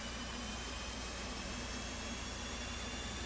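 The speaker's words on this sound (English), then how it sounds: "And then we can start an engine. And we'll start number 2." Jet engine number two of an F/A-18C in a flight-sim game spooling up, a steady broadband roar with a faint high whine, constant and fairly quiet, no voices.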